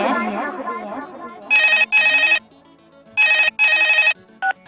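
A phone rings in repeated pairs of loud electronic trills with short gaps between them, following a voice at the start.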